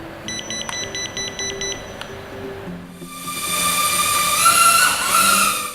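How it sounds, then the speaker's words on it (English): Cheerson CX-OF optical flow micro drone controller sounding short tonal beeps, a couple of clear chirps early on, followed by a rising whine of the small drone's motors spinning up close by. "We have to press 3D button and hold it for a few seconds until we hear the beep"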